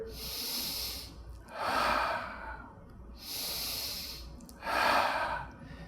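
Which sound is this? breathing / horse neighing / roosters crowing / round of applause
breathing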